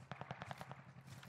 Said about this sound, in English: A lot of gunfire going on next to us.